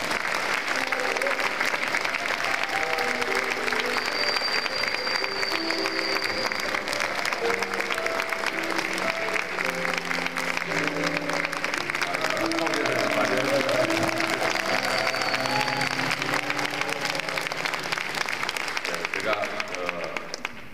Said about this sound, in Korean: 귀하신 우리 장로님 나와주실 때 큰 박수로 맞이합니다.